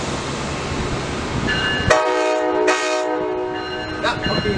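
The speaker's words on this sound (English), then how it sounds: "Here comes the train." A CSX train horn blasts loudly with sustained tonal chords over the rumble of the train passing overhead at Gaithersburg, sounding close and powerful.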